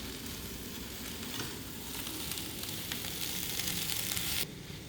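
Asian stir-fry vegetables sizzle loudly in a pan, a dense continuous hiss with stirring scrapes mixed in, close up, ending abruptly with a quieter drop near the end.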